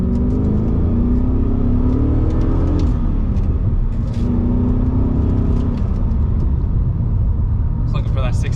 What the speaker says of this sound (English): go ahead, do a second gear pull.